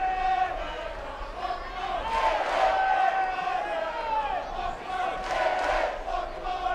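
A packed college baseball stadium crowd for Miami vs Florida State on a Saturday night roars and cheers continuously, a dense wash of voices swelling in waves without pause.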